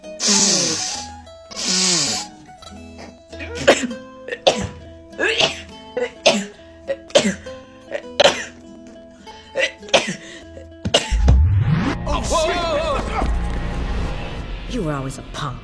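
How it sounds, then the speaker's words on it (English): A person sniffles repeatedly in short, sharp intakes spaced a second or so apart, building to a single loud, explosive sneeze followed by a trailing exhale. "Let's see how many sniffles it takes for me to sneeze."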